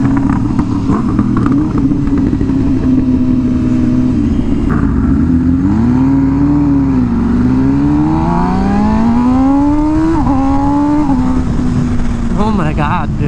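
An MV Agusta Rush naked motorcycle's engine drones loudly and steadily while riding, its pitch rising and falling through revs and gear changes, with wind noise and occasional speech over it.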